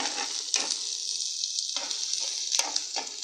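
Green chillies hit a hot pan for chilli paneer, giving a loud bright sizzle and spitting fry that swells in bursts as they are stirred.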